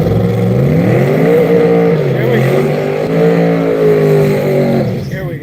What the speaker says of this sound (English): He's gonna try a burnout one more time.